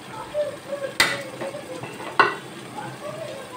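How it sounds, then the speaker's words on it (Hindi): Ginger, green chillies, ground spices and garam masala being stir-fried in a pan for balti gosht, with a soft sizzle under scattered scrapes and two sharp knocks of a spoon against the pan. "अब इसको मैं अच्छी तरह भून लूँगी"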